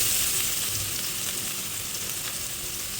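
Chopped onion fries in hot oil for a koi fish and tomato curry, producing a constant, fairly loud hiss and sizzle that stays even throughout with no speech.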